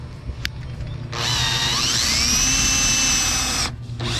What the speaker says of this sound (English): we're just gonna go ahead and do a pilot hole or a pre-drill.